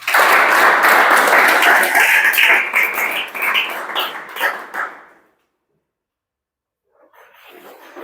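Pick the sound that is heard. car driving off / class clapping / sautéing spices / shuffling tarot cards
class clapping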